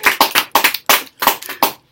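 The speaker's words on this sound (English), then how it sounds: "Everybody applaud" Applause at a keynote talk after a speaker is introduced: several sharp bursts of clapping in uneven rhythm, close and clear, dying away after about two seconds.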